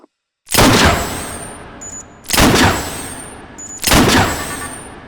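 Three loud laser rifle shots from the video game H3VR, each a sharp blast with a long decaying tail and a rising electronic whine, spaced about 1.5 seconds apart with no voices.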